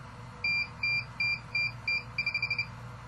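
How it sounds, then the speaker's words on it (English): An SWF embroidery machine gives five evenly spaced high electronic beeps, then a quick run of shorter rapid beeps, clear over a low background hum. "I press and hold the set button until the machine stops beeping like this."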